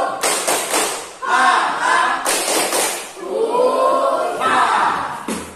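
A classroom group doing a rhythmic spirit clap, several bursts of loud unison claps and thumps in a patterned beat, with children's voices shouting along between them.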